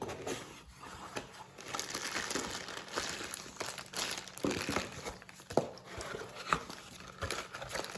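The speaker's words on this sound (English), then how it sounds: "let's open these things up and see what comes in the box" Packaging for a .22 pistol being opened, with close, quiet crinkling and rustling of plastic and cardboard, plus scattered sharper crackles and handling taps, no talking.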